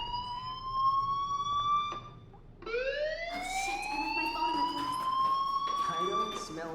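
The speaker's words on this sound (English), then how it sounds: "do you hear that fire alarm?" Fire alarm in the video game Life is Strange Remastered, a wailing siren tone that rises and holds, cuts off briefly, then sweeps up again and sustains, moderately loud against faint background.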